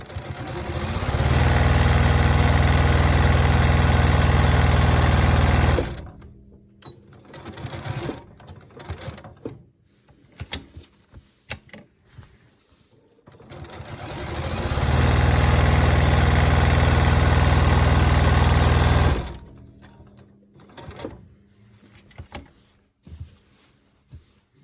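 Sewing machine stitching a pinwheel quilt block, two long loud whirring runs of steady mechanical hum separated by a quiet stretch of small handling clicks and taps.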